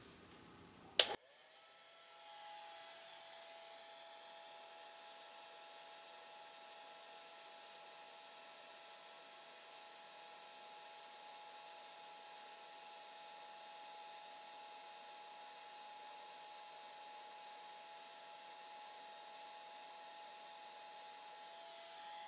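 A hair dryer drying a watercolor painting clicks on after a sharp snap, then runs as a steady, fairly quiet whirring hum with a faint whine for the rest of the time, no talk over it.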